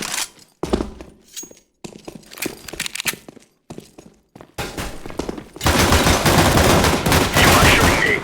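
Gunfire in the mobile shooter CSSO Mobile during a competitive match on the Nuke map: sharp shots and short bursts in choppy bursts, then sustained loud rapid fire near the end.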